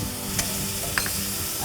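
Curry fries in hot oil with a steady, close sizzle and a couple of faint stirring clicks.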